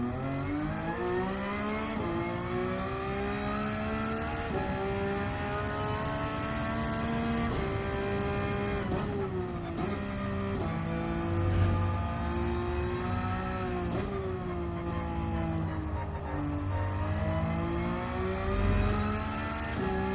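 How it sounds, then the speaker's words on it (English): A Porsche race car engine in Gran Turismo 7 on the Nordschleife drones steadily and loudly, its pitch rising and falling through repeated gear changes. "Tell you what, this Porsche, it's just so nice to drive."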